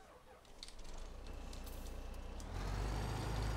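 A truck in a farming video game rumbles with a steady low engine drone that grows louder and heavier partway through, with faint high tones and no talking.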